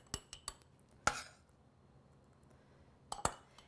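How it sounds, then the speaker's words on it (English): Cooked quinoa spooned into glass jars, heard as a few sharp, quiet clinks and taps of a spoon against glass, spaced out with near-silence between them and a small cluster of knocks at the end. "I'm gonna put some cooked quinoa in the bottom of each jar."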